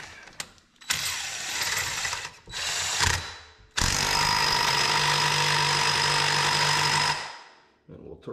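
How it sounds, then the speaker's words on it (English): An impact wrench tightens a 22 mm nut on a Can-Am Maverick X3 clutch, with two short rattling hammer bursts followed by a longer sustained burst, loud and close, and brief pauses between them. "Let's grab the impact."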